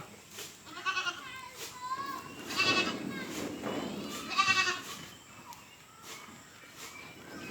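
Black Bengal goats on a farm bleating several times at close to mid range, with overlapping wavering calls and light background shuffling.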